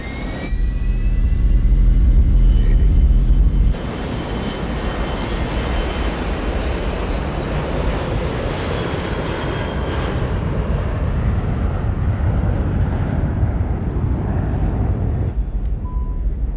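Jet airliner engines roar during flight, a loud, dense, continuous rush that surges heavier at first, then settles into a steady sustained roar before thinning toward the end.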